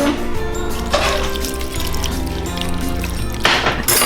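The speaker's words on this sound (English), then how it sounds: "I put 1 cup of water" Water pours steadily into a cup, a continuous splashing stream with a brief surge near the end, heard close up.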